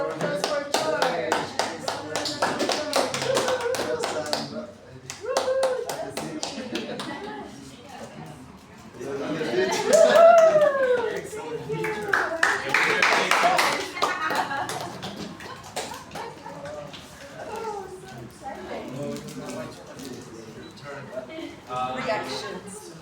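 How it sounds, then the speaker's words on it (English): A classroom audience claps in scattered, uneven bursts of hand applause, moderately close, mixed with talking voices and some louder clapping around the middle. "Round of applause for George."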